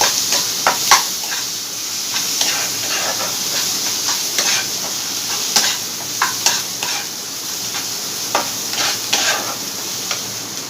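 Paneer bhurji with coriander and cumin powder frying in a pan, a bright continuous sizzle with frequent sharp spatula scrapes and taps, close and fairly loud, no voices.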